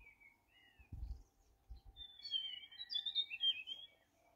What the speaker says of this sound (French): Ça gazouille, hein.